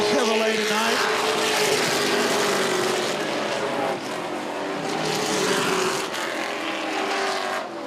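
A Chevrolet Silverado race truck engine howls at a Camping World Truck Series race, loud sustained revving with rising and falling pitch as trucks pass, blended with crowd and track noise.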